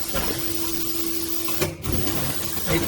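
A fully automatic one-colour screen printer runs while printing a logo on plastic cups with UV ink, giving a steady mechanical hum with a constant tone, a brief clunk and hiss near the middle and another thump at the end.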